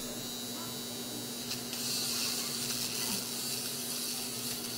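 A Finishing Touch Flawless electric brow razor gives off a steady, thin, high buzz over a low electrical hum, close by, getting slightly louder midway and running continuously with no talking.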